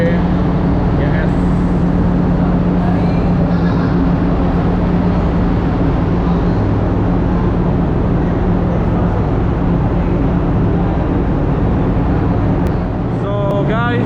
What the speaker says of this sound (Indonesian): ini suara mesin ribut banget